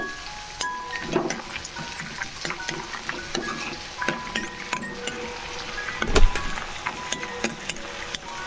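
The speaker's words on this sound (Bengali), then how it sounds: "বড়িগুলো বেশ লাল লাল করে ভেজে নিতে হবে।" Homemade lentil dumplings fry in hot oil with a constant close sizzle, broken by clinks and scraping stirs and a louder clatter near the end.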